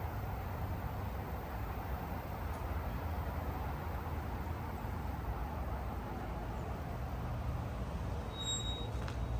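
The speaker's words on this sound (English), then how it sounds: "I'm gonna be quiet for a little bit, and if you can hear the cars." Steady traffic noise from cars passing near a backyard, a continuous distant road rumble with no clear individual pass-bys, and a faint short beep near the end.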